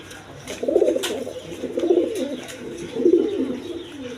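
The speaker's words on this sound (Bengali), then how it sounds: "এক জোড়া আফসান গ্রিজাল কবুতর আছে দেখেন, কোয়ালিটি সম্পন্ন কবুতর।" A pair of Afshan grizzle pigeons coo in three low, rolling bouts, close by and fairly loud, with faint background noise between calls.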